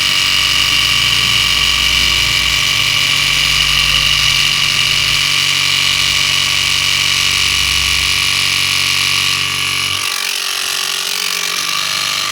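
A HUBEST paint mixer runs with a steady, loud mechanical hum and rattle, its tone shifting and the low rumble dropping away near the end as it settles onto a towel.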